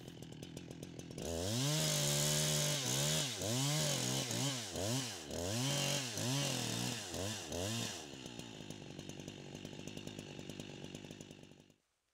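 A chainsaw cuts a directional felling notch into a standing tree. The engine roars loud and close, revving and dipping repeatedly through the cut, then drops to a steadier, quieter running tone for the last few seconds before stopping.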